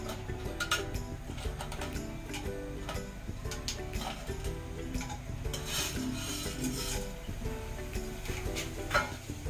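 Whole spices including mace, cinnamon and a little cumin drop into hot oil for a chicken stew, with a busy crackle of sizzling under steady stirring and clinking of a metal pot and utensils.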